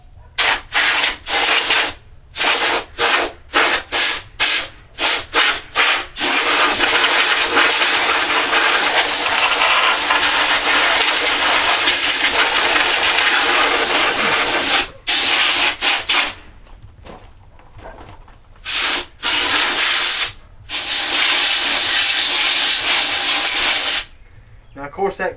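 Bursts of compressed air from a large air compressor hiss loudly as they blow out a computer fan, starting in short rapid blasts, then a long continuous jet, then more intermittent bursts.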